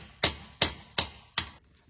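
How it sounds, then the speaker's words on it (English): Four sharp metallic hammer blows at a steady rhythm knock seized bearings out of a housing, each hit loud and ringing briefly, with no talking between strikes. "Let's try and knock these bearings out of here."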